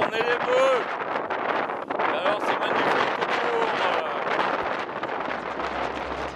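Strong gusting wind at the summit of Cime du Mercantour roars and buffets the microphone throughout, with brief faint sounds breaking through the rushing noise.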